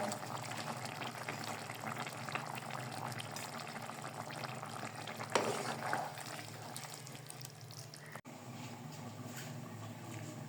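Prawns, eggplant and potato frying in a pan with tomatoes just added give a steady, soft sizzle and bubble throughout, with a brief louder stir partway through.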